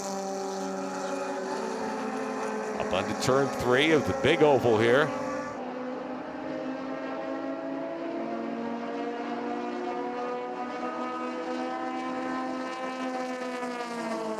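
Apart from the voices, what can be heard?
Grand Touring race car engines screaming at high RPM, Daytona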